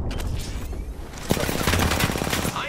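Rapid gunfire in the Apex Legends video game, a dense burst of repeated shots that starts partway in and keeps going close and loud until the end, with game noise underneath.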